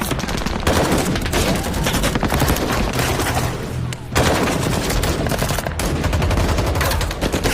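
A film gunfight between government soldiers and a group, heavy sustained gunfire with rapid overlapping shots and bursts, loud and nearly continuous with one brief lull.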